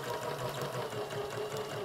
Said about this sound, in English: When you come to the corner, you're going to leave your needle down, lift your presser foot, and turn your project and keep going.